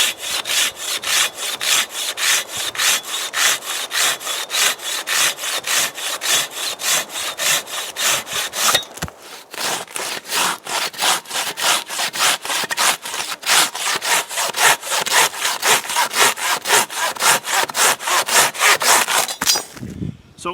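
Silky hand saw cutting through a dry pine log about 4.5 inches thick, with loud, close, rhythmic back-and-forth rasping strokes, a short pause midway, then steady sawing again until the end.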